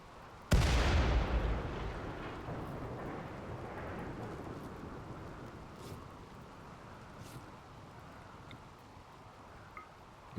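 Gunfire in the video game Rimworld, one loud booming shot at the start that rolls away into a long fading rumble, followed by a few faint distant cracks.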